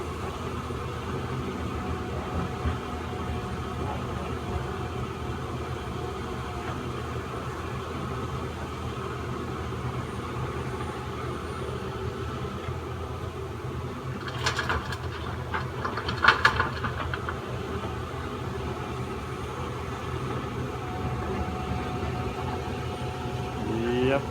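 A Caterpillar 320D excavator digs laterite soil, its diesel engine rumbling steadily up close for the whole stretch, with brief scraping and clanking bursts partway through and someone talking over it.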